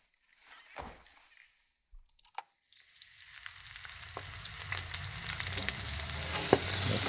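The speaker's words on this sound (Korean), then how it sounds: "굽는 소리" Food hits a hot pan and settles into a steady crackling sizzle that builds and holds, following a few soft thuds and knocks, heard close up with no voices.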